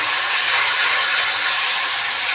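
Spice paste and water hitting a hot frying pan, a loud, dense, continuous hiss of sizzling that fills the short moment without pause.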